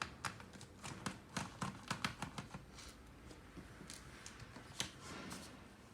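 Removing the keyboard-marked screw from an HP 15-N054ST laptop: a run of small close metallic clicks and taps from the screwdriver, busy at first, then sparser and quieter, with no talking.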